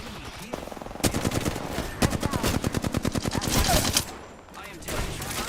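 Video game gunfire rattles in rapid automatic bursts, loud and close, with separate volleys and short pauses between them, over a backdrop of game sounds.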